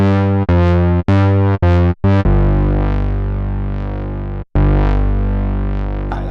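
An AJH Synth Ring SM eurorack ring modulator fed square waves into several inputs, with a ladder filter partly closed, gives loud, buzzing, distorted metallic tones. It starts in short stuttering bursts, then settles into a sustained drone that is cut by one brief dropout.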